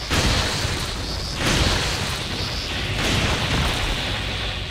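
Heavy shotgun blasts boom in Resident Evil 4, three loud bursts spaced about a second and a half apart, each trailing into a rumbling roar with no voices over them.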